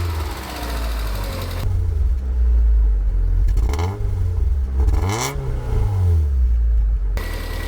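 An abandoned Land Rover Freelander's engine runs close by, settling into a steady idle rumble and then rising and falling through several revving blips with slight knocking, and no talk over it.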